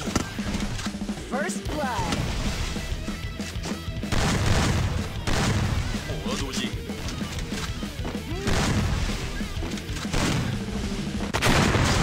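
Dense, repeated gunfire and impact bangs from the Free Fire video game in a 2 vs 2 match crack over a busy game soundtrack, loud and continuous.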